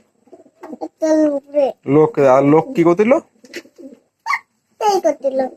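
Pigeons coo close by, low throaty warbles mixed in with people talking in short bursts.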